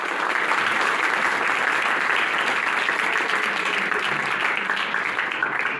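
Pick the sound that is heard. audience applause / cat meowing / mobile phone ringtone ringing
audience applause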